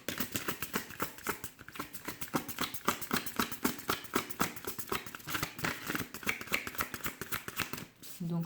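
Tarot cards being shuffled by hand: a rapid, steady run of soft riffling flicks, close and continuous, while someone speaks French over it.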